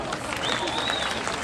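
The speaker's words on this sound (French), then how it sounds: "Je vous demande d'applaudir Violette Prima." An audience applauds at an equestrian prize ceremony, a soft, rustling wash of clapping that stays fairly even for the whole moment while a voice speaks over it.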